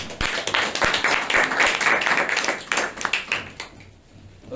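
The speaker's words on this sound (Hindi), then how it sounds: "जोरदार एक ताली बजाए प्रभु के लिए।" A congregation at a Sunday church service in Lucknow claps together, with dense, loud applause running continuously for several seconds before thinning out and fading near the end.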